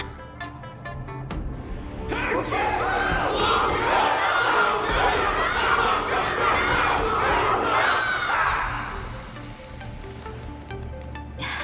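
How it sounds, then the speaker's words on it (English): A large crowd in the video game Honkai: Star Rail roars and cheers loudly, building into a sustained wall of shouting voices for several seconds before easing off. "Everyone's cheering for you, Luca!"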